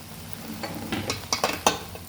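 Kottu parotta frying in a pan while being stirred, a soft steady sizzle broken by several sharp metal scrapes and clanks of the spatula, close and clear with no talking.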